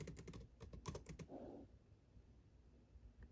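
Rapid clicking keystrokes on a computer keyboard in a short burst over the first second and a half, then near silence; close, faint and without talking.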